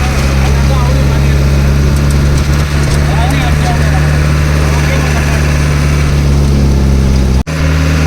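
Vehicle engine running steadily as the car drives toward a parking spot on the way to a waterfall, a loud continuous low hum throughout with voices faintly in the background and a brief dropout near the end.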